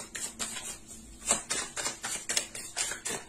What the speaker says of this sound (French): Je vais rajouter des cartes pour voir.